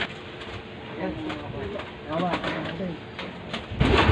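Pigeons cooing softly in a loft, low throaty coos rising and falling over a steady background hum, with people talking nearby.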